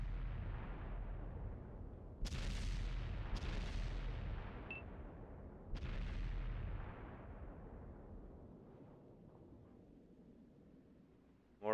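Gunfire in the online shooter Contract Wars during a team match, a few heavy booming shots with long rumbling echoes that slowly fade, spaced seconds apart, with no talking.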